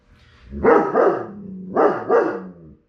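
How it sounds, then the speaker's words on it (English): A dog barks four times in two quick pairs, loud and close, each bark full and deep with a short pause between the pairs. "I apologize for my dog barking."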